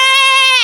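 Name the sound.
person imitating a goat bleating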